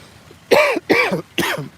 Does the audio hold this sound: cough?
yes